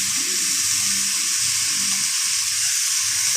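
Tomatoes, onion and curry leaves sauté in a pan for a beans kurma, giving a steady close sizzle and fry hiss throughout with faint low stirring underneath and no talk.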